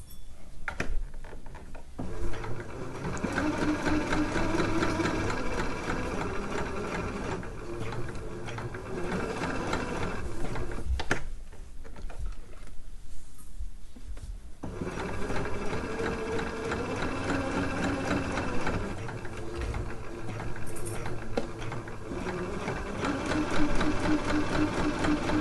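A sewing machine runs in long steady bursts, stitching slowly around the curved underarm of a dress bodice, with short pauses as the fabric is turned and pinned, close and alone without talk.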